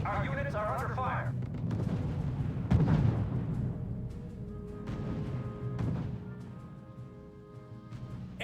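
Artillery fire in the strategy game R.U.S.E., heavy rumbling bursts with one louder boom near the third second, continuing beneath game voice chatter throughout.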